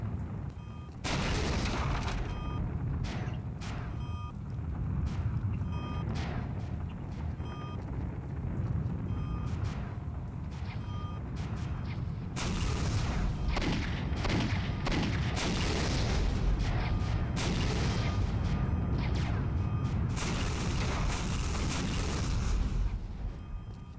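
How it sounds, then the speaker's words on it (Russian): Gunfire in the video game Postal 2, dense and continuous with many broadband bursts and heavier booms packed together over a steady loud din, with no voices. "Кто стреляет?"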